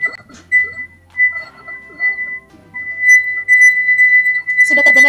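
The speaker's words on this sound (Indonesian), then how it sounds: "kita akan menggesek bibir gelas dengan kedua jari yang telah dibasahi air tadi" A wine glass rim rubbed with two water-wet fingers sings a steady, pure ringing tone that sustains for several seconds, swelling and fading slightly, with faint finger squeaks and a clink at the end.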